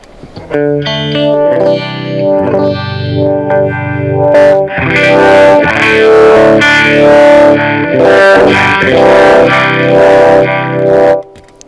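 A distorted electric guitar played through a Univibe effect plays a series of chords with a throbbing, pulsing wobble, loud and sustained throughout.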